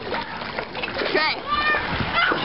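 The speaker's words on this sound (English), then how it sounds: "Look at the freaking waves." Lake waves splash and slosh near the shore at a lake house, loud and continuous, with children's voices chattering and shouting over the water throughout.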